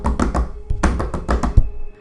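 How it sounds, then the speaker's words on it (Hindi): Knocking on a door in a Hindi animated horror tale, several sharp taps in quick clusters with a short pause between, close and fairly loud. "और कुछ 15 मिनट बाद फिर से दरवाजे पे नॉकिंग"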